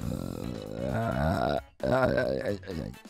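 A long, drawn-out burp rumbles with a throaty, tonal croak, breaking off briefly before a second loud belch follows, close and prominent with no talk over it.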